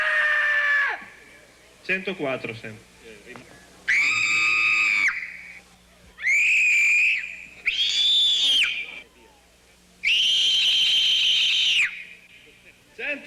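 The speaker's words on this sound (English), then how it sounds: "judges determine which of the contestants has the loudest scream" Children take turns letting out long, piercing screams at a loudest-scream contest at a festival, each shriek a sustained high blast lasting a second or two, separated by short pauses with brief talk and crowd noise between.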